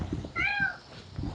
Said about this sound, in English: Should I play the angry cat meow?